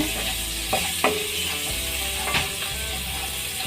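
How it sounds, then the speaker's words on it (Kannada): Curry leaves and turmeric powder frying in hot oil for a village-style egg sambar, a steady loud sizzle throughout with a few sharp spoon scrapes against the pan, close up and no talking. "ಇದಕ್ಕೇ ಕರ್ಬೇವಿನ ಸೊಪ್ಪು ಸ್ವಲ್ಪ ಅರಿಶಿನ ಪುಡಿ ಹೀಗೆ ಇದನ್ನೆಲ್ಲ ಹಾಕಿ ಸ್ವಲ್ಪ ಫ್ರೈ ಮಾಡ್ಕೊಳ್ಳೋಣ"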